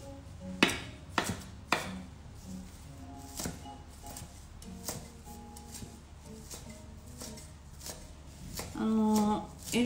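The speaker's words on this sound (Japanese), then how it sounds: "でこれをみじん切りにします。" A knife minces soft parsley leaves on a cutting board, with sharp, uneven taps close to the mic and a brief clatter near the end.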